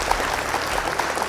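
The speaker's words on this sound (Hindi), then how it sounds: "जोरदार तालियां पूरी टीम्स के लिए।" Studio audience at a Hindi student quiz competition clapping for the teams at the end of the visual round, a short, steady wash of applause with no voices over it.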